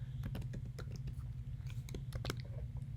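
Keys clicking on a computer keyboard while a title phrase is typed, scattered quick taps in short bursts over a steady low hum, moderately close.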